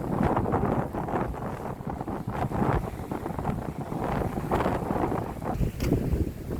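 Strong wind of about 20 knots gusting to 24 buffets a sailboat on the Mediterranean, roaring steadily and loudly across the microphone in rough, uneven gusts with no talking.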